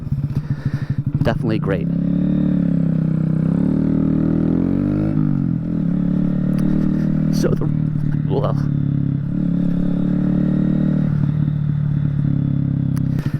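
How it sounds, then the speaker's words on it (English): A 2022 Honda Grom motorcycle fitted with a modified exhaust idles with a steady, full-bodied drone nearby, rising once briefly in a rev, while someone talks over it throughout. "And it just has a lot more body to the exhaust note now."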